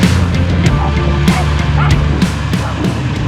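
Several dogs bark and yip outdoors, sharp overlapping barks repeating every half second or so, fairly close and loud, with a few whimpering yelps mixed in.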